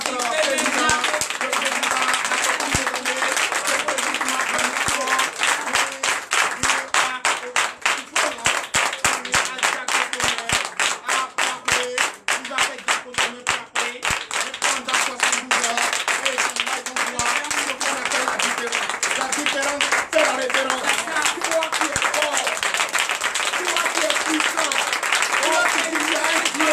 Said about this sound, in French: donner de vive acclamation à notre président